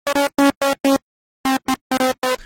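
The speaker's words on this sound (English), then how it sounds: "So I've got this preset which sounds like this without any effects" A synthesizer preset from a track, played dry with no effects: loud, buzzy staccato chord stabs in a choppy rhythm, with a brief silence before another burst of short stabs.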